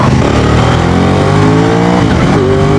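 An Aprilia RS 660 motorcycle screams loudly and close under hard acceleration, its engine pitch climbing and then dropping sharply as the quickshifter snaps through an upshift.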